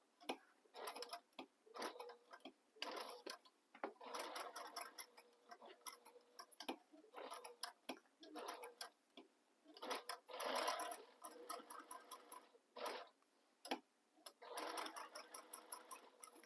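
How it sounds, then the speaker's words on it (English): A domestic sewing machine stitches close to the edge of a sling bag in short, fairly faint bursts of rapid whirring, separated by pauses that come with a quiet ticking rhythm. "you're really stitching really close to the edge there"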